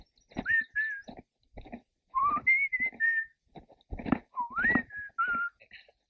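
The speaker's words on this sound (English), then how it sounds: "So we whistle." A person whistling outdoors on a survival trek, a series of short rising and level tonal whistles in separated bursts, close and clear, mixed with breathy low thumps between phrases.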